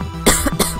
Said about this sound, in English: Got a little cough in my throat.